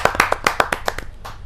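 A handful of distinct hand claps, about a dozen in quick irregular rhythm, from a small audience at a Hindi poetry gathering, close and fairly loud, slowing and fading toward the end.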